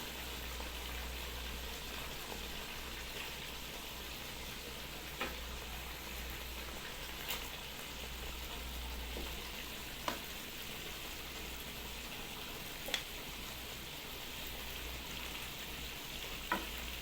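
Chicken frying in spice paste thinned with a little water in a pan gives a steady, fairly soft sizzle, punctuated by a few light utensil knocks as it is stirred.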